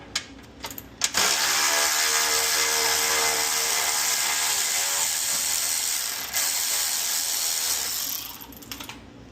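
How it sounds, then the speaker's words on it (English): A ratchet and wrench tighten nuts on a Can-Am UTV winch fairlead, a rapid, loud clicking ratchet run that lasts several seconds, with a few sharp clanks before and after. "use our ratchet and our wrench here"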